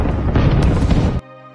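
Continuous heavy rumbling barrage of German artillery explosions striking the Soviet border, loud and dense with overlapping booms, cutting off abruptly near the end into a low hum.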